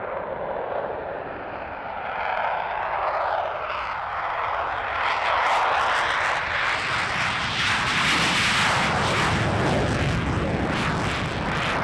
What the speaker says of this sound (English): The Polish Air Force Su-22M Fitter was a late addition to the flying programme, flying as a solo